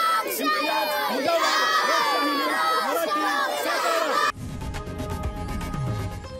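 A large crowd cheers and shouts continuously at a rural celebration in Satara, India, with high excited voices, loud and dense, then the sound shifts abruptly to music-like noise.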